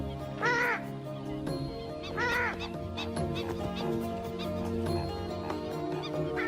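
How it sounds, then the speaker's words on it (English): A purple swamphen, or sultana bird, gives two loud, harsh, explosive honking calls close by, spaced about two seconds apart over a soft wetland background. "This is the purple swamp hen, also called the sultana bird, famed for its very loud,"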